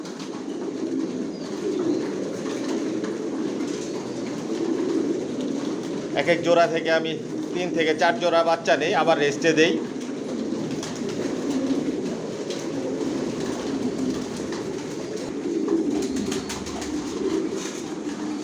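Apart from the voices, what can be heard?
racer pigeons cooing in a loft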